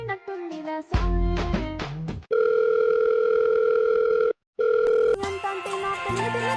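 A telephone rings with an incoming call in a Telugu TV drama scene: loud electronic ringtone bursts, then a sustained steady tone with a brief silent break, followed by more ringing tones.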